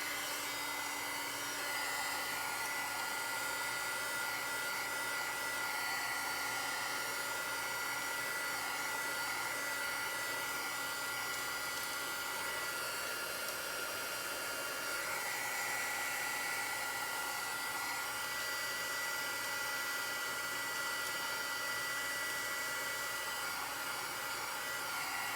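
A hair dryer runs steadily while drying freshly painted craft rocks, a constant airy whir with a faint tonal whine, even and close throughout with no talking.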